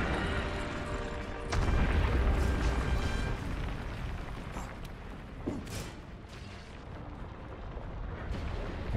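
Cannons fire during a Monster Hunter World battle against Zorah Magdaros, with heavy booms and rumbling blasts layered over a dense, noisy game soundscape, loudest early on, then rolling on with scattered impacts.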